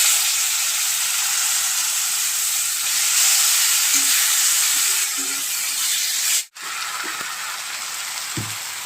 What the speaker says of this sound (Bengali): কালো জিরে আর শুকনো লঙ্কা ফোড়ন দিয়েছি, দিয়ে এখন শামলাগুলো দিয়ে দেব, ভাজা করে নেব।